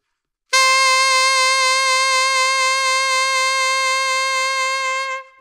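A single sustained saxophone note held for about five seconds, clear and fairly loud, with a strong steady vibrato that sounds deliberately overdone.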